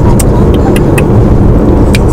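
Steady low road rumble of a car carrying a family to a hardware store, heard from inside the cabin, continuous and fairly loud with a few faint high clicks above it.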